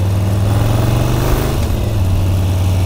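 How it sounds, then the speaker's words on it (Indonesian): Custom Harley-Davidson Japanese-style chopper with a softened exhaust, idling in a deep, steady, rumbling low throb, close and loud throughout with no talk. "ini knalpot suaranya dibikin sedikit halus, jadi nggak ngeblar banget sih"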